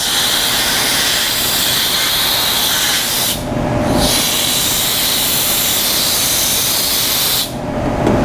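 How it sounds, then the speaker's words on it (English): A loud air blow gun hisses steadily while drying a photolithography sample, a harsh continuous rush of air with two brief dips where the flow eases, close and alone. "This gun speeds up really fast, so you want to slowly ramp it up, or else you might blow your sample out of your tongs."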